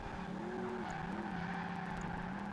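Tires squeal and skid as a car drifts through a corner in Project Gotham Racing 2's arcade street races, a wavering screech riding over a steady engine roar throughout.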